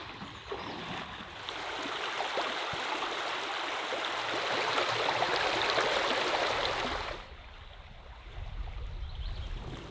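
A Lithuanian forest stream rushes and burbles in a steady, close wash of flowing water for most of the clip, then eases to a quieter trickle near the end.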